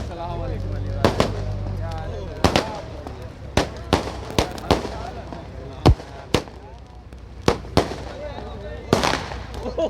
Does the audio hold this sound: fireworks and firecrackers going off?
yes